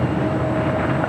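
Emirates Airbus A380 Super jumbo taking off on runway 25 left at LAX on a foggy day, a steady, loud roar of jet engines with a faint whine, continuous and unbroken, with no talk.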